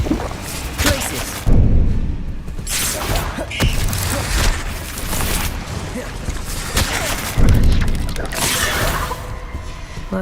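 An icy Glacius freezing spell cast in the Hogwarts Legacy wizarding game, with sudden loud, crackling magical bursts and booming impacts over a dense, busy battle mix.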